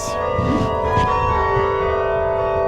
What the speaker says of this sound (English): It's the bell towers here in Perth, Western Australia.